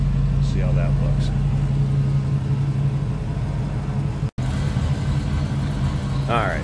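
A 1962 Ford Thunderbird's 390 V8 idles with a steady, even low rumble close at hand, while a voice speaks briefly in the background over the continuous engine drone.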